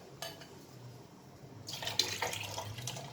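Tamarind juice poured into a simmering southern Thai sour curry with papaya, a soft liquid pour and splash that swells after a brief clink, close and moderately loud with no talk.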